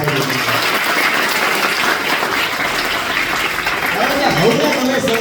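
An audience at a village primary school's Independence Day celebration bursts into sustained applause, a loud dense wash of clapping that carries on steadily for several seconds.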